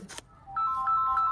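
A mobile phone ringtone plays nearby, a steady repeating electronic melody that starts after a brief clatter.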